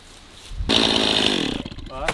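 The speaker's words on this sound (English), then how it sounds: "time to sharpen this chainsaw too" A chainsaw needing sharpening cuts into wood, its engine rising to a loud, steady roar for about a second before it drops back to idle. Voices are faintly audible.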